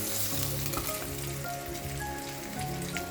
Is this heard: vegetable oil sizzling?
yes